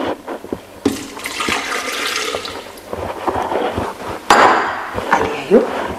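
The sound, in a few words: water being poured into tomato sauce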